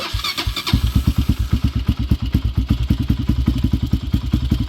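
A Honda dirt bike engine fires up after a brief clatter, then settles into a rapid, loud, evenly pulsing idle close by, with no voices.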